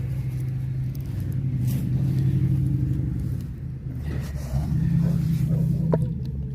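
Work trucks rolling in at a residential downspout repair site, a steady low engine rumble with slight revving that holds throughout, fairly loud and close.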